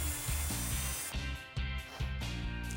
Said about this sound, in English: Then drill right at the marks.